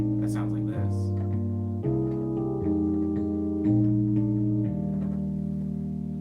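Excerpt of a mixtape track plays as a steady electronic piece, with sustained chorused synth chords changing every second or so over a low bass line and light ticking percussion.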